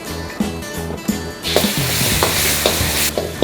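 Chili paste sautéing with ginger, garlic and green chili in a hot pan: a loud, continuous sizzle with repeated scraping stirs that intensifies partway through, no talking.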